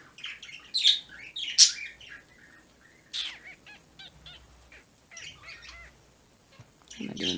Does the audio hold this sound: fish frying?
no